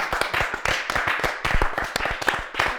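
An audience applauds a guest on a French talk show, sharp distinct hand claps from a small room of people, steady and lively throughout.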